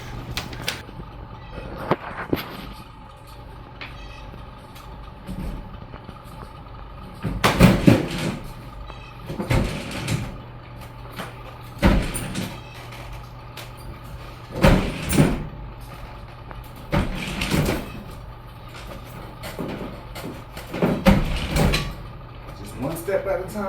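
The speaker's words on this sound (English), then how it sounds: "I'm just gonna hook up to my appliance Dolly, use these back wheels, and just roll it down" A light washer on an appliance dolly is rolled down steps one at a time, with repeated loud rumbling thumps of the back wheels dropping at intervals, separated by quieter stretches.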